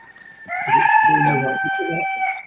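A rooster crows once, loud and close, in a long drawn-out call on a farm in hot English weather, with brief clucking from chickens beneath it.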